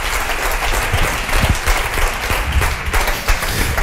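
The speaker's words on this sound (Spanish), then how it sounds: "Un aplauso para Manuel y Yago." Sustained applause from a seated audience at a Thinking Party 2012 conference session, dense steady clapping filling the whole stretch at full volume with no voices over it.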